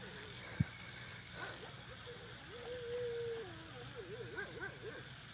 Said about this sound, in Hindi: कुत्ते की आवाज़ें आ रही हैं।